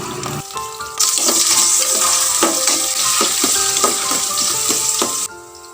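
Sliced onion dropped into about two tablespoons of hot cooking oil for Filipino ginisang monggo, bursting into a loud, steady sizzle after a quieter start, with scattered clinks and scrapes of a utensil stirring through it before it cuts off.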